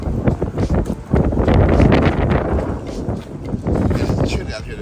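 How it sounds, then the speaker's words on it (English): Strong gusts of cold wind buffet the microphone outdoors beside a car, rising and falling in loud, rushing surges. A person speaks over the wind. "I know y'all can hear the wind"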